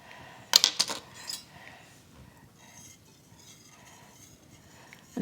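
A spoon taps and scrapes a few times against a pot of just-boiling powdered milk with lemon juice, a brief cluster of light metallic clinks early on, then faint quiet stirring.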